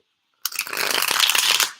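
Tarot cards are riffle-shuffled in one quick, crisp burst of rapid fluttering clicks after a moment of silence, close and clear with no voice over it.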